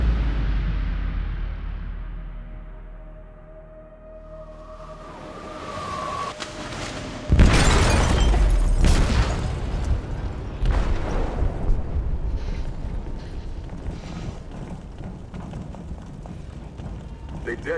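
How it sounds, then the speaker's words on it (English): A sudden loud explosive blast in a ship's hold in Detroit: Become Human, a deep boom breaking over tense game score and shouting voices, followed by a long rumbling roar that stays heavy to the end. "They detonated an explosive in the hold."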